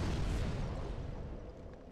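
A firebomb hurled in Dark Souls 3 goes off in a loud, deep explosive burst with a rumbling boom that slowly fades over a couple of seconds, no voices present.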